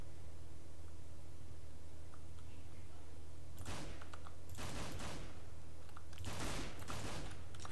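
Gunfire in a CS:GO match, with a scoped rifle among the weapons: several loud bursts of shots arrive in clusters over a steady hum of background noise, with no talk.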